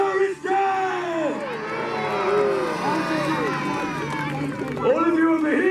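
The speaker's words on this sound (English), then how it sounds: "lords and ladies, and cheer for Trebuchet!" A crowd at a castle jousting show, with many voices yelling, whooping and cheering in loud overlapping calls that rise and fall across the whole stretch.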